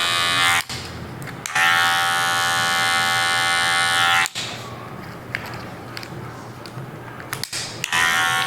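Electric hair clippers buzz steadily during a military-style fade haircut, blending the fade into the beard, running in long sustained passes broken by brief pauses as the clipper is lifted, close and loud.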